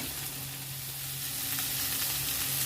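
Capsicum and beans sizzle steadily in a hot wok, a continuous close hiss with a low hum underneath and no voices.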